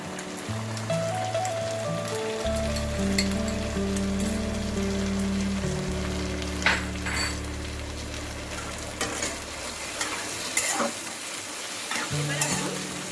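Vegetables and sauces being stir-fried for soya chowmein, a steady close sizzle with occasional scraping stirs, under a continuous musical backing track.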